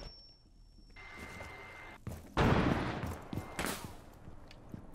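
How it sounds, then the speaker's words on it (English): Gunfire in Rainbow Six Siege, a loud burst of shots erupting after a quiet stretch of game tones, then further scattered shots and impacts trailing off. "They're shooting from on that fucking thing too, man."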